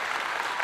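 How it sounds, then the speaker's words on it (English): Brief burst of dense clapping like a crowd applauding, steady and fairly loud throughout the short moment, with no voices over it. "I want to give you a clap."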